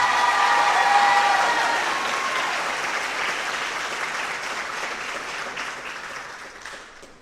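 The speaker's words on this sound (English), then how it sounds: "Give one more round of applause for our soloist" Sustained audience applause for a choir soloist at a high school fall concert, dense and loud at first, then slowly thinning and fading over about seven seconds.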